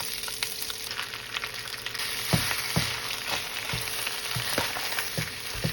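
Cooked rice frying in a pan for chicken fried rice, a steady loud sizzle broken by a few sharp scrapes and clatters as it is stirred, with no talk.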